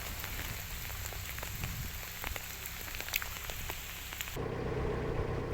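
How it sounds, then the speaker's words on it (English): Heavy rain pours down on a narrowboat at Cropedy Lock on the Oxford Canal, a dense steady hiss of drops with scattered sharper splashes throughout. The texture shifts to a different tone near the end. "it definitely takes the shine off when you're being hammered with rain."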